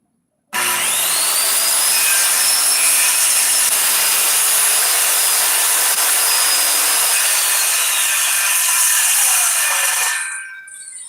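A power saw whines steadily through wood for about ten seconds, loud and close, then spins down as the blade slows.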